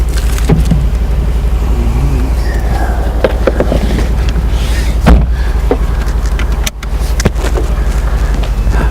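A 2018 Mercedes-Benz C63S AMG drives along with a steady low engine and road rumble heard from inside the cabin, with occasional light clicks and knocks.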